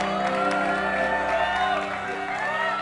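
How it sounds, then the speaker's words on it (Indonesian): A studio audience on an Indonesian entertainment show claps and cheers together, a continuous crowd wash with whoops and shouts, layered under steady background music. "tepuk tangan dong"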